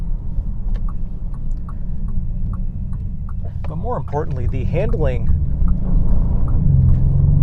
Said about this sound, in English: The engine simply sounds good without it being overbearing.